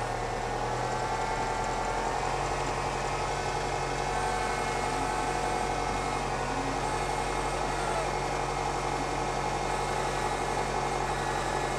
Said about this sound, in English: let him drive the tractor back